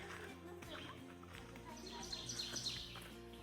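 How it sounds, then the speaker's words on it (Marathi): Faint high chirps and tweets from several birds in a dense Canadian forest rise over a steady outdoor ambience, a little clearer toward the end. "पक्ष्यांचे आवाज येत आहे."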